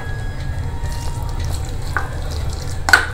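Finely chopped onion, chilli and capsicum are stirred together with butter in a pan, giving a soft, continuous scraping and a gentle sizzle, close and quiet, with one sharper clink near the end.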